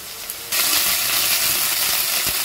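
Ginger garlic paste dropped into fried onions, a sudden loud hissing sizzle that bursts up and holds steady, close to the pan.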